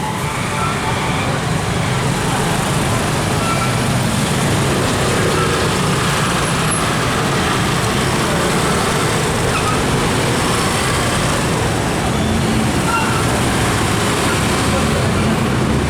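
Jammed road traffic in Aizawl city, Mizoram, India, as students leave school: a constant loud roadside din of idling and creeping engines, close and unbroken, with indistinct voices mixed in.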